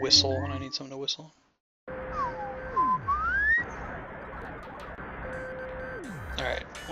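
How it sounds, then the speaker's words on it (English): A person whistles a short tune in rising and falling bends, fairly close, over a bed of synthetic video game music and electronic tones from EarthBound's desert stage. "Song I like to whistle when I need someone to whistle."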